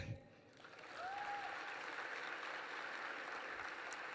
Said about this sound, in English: I think we all deserve a round of applause and to give thanks.